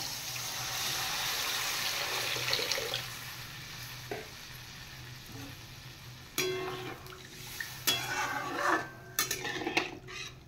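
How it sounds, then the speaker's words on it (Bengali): Water poured into a hot pan of fried mustard-chilli spice paste for a fish curry: a rushing hiss at first, then the sizzle settles and utensils clink and clatter against the pan. "এবার আমি পরিমাণ মতো জল দিয়ে দেব।"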